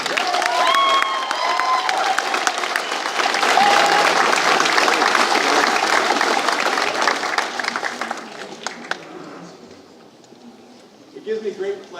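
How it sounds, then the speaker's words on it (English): Sustained crowd applause with scattered cheers at a 2019 high school graduation ceremony, dense and steady for about eight seconds before thinning out, with a voice briefly audible near the end. "One more round of applause."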